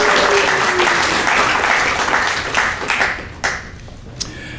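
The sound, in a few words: audience applause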